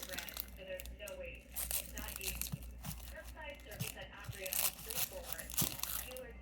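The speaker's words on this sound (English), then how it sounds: "I'm going to Cut the onion." A knife cuts through an onion for coleslaw, giving a string of crisp, crunchy slicing clicks close by, under steady talking.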